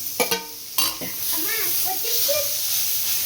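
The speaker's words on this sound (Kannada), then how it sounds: "ಫಸ್ಟು ಕ್ಯಾರೆಟ್ ಹಾಕ್ಕೊಂಡು ತುಪ್ಪ ಹಾಕಿದ್ನಲ್ಲ ಅದರಲ್ಲಿ ಫ್ರೈ ಮಾಡ್ಕೊತೀನಿ" Carrots fry in ghee in a pan with a steady hiss, opened by a few sharp clinks of a utensil, while a voice talks over the sizzle.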